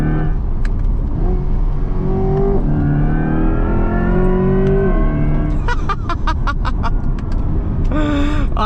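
A 2024 Chevrolet Corvette E-Ray's V8 roars as it accelerates hard through the gears, the engine note climbing in pitch, dropping at each shift and climbing again, loud and close from inside the car.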